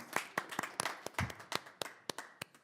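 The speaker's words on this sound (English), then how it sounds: "Round of applause." Small group applause at a city council meeting, a sparse, fairly faint series of distinct claps from a few people in a quiet room.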